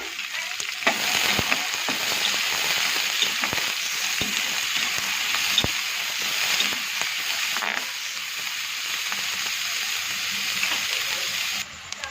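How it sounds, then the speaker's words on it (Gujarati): Onions fry in a pan for a dahi dungri curry, giving a continuous close sizzle with occasional crackles and stirring scrapes. "હવે ડુંગળી શેકી કાઢીએ આપણે"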